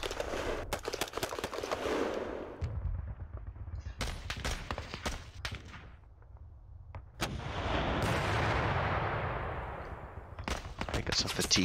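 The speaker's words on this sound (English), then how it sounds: "be the artillery firing there. I love the sound of those Nurburgwerfers." Nebelwerfer rocket artillery firing in the World War II strategy game Panzer Campaigns, a sequence of sharp booming launches and blasts with rushing, roaring bursts in between, loud and repeated throughout.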